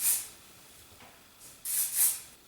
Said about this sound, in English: So what I'm going to do is just spray it.